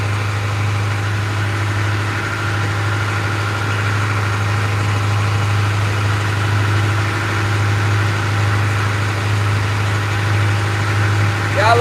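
A diesel boat engine idles in a steady, unbroken low drone for the whole stretch, close and constant, with a faint voice murmuring over it.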